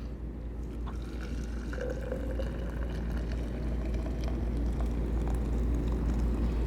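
Hot water, boiled on an induction cooktop and held at temperature, poured for tea in a steady continuous stream of moderate loudness with no talk.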